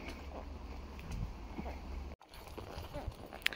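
Horse hooves clip-clopping at a walk on an outdoor ride, steady soft footfalls over a low rumbling background, with brief faint voices.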